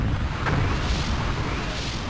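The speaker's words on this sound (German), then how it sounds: "Das ist da gerade explodiert." An explosion in the video game Anvil of Dawn makes a sustained, booming, rumbling blast that fills the short moment at a steady loudness.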